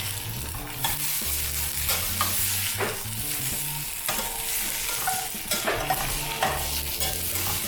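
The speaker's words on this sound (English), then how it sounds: "Let's give this another stir." Brie and softening vegetables stirred in a frying pan for a grilled cheese, a steady sizzle broken by repeated scraping stirs, close and fairly loud with no talk.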